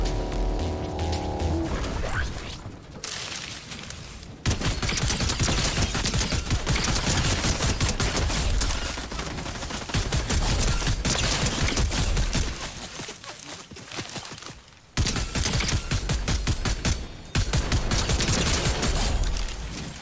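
Fortnite zero-build gunfire: repeated bursts of shots and rapid automatic fire close up, with short gaps and a few sharp breaks, over continuous game sound and no speech.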